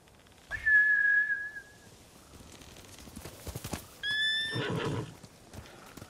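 Horses neigh in the video game Ghost of Tsushima: a long whinny near the start, then a rising, harmonic-rich neigh later, with brief hoof-like clatter between and no talk over them.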